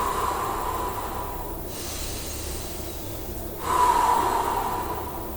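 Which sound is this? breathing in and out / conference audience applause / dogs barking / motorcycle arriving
breathing in and out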